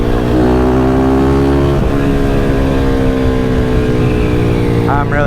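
Motorcycle fitted with a new Orion exhaust riding through traffic, a loud steady engine drone with layered harmonics that holds throughout and swells slightly as it revs, with a brief voice near the end.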